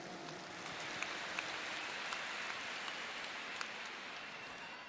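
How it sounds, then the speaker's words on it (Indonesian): A large audience at a political rally for AMIN at JIS stadium applauds in a faint, distant, continuous wash of clapping with a few sharper claps standing out. "Tepuk tangan untuk semua yang memilih hadir di sini."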